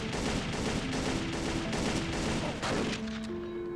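Dense, continuous gunfire from a weapon in the top-down indie shooter game Geneshift, a steady rapid burst that fills the whole stretch at close range with no talk over it.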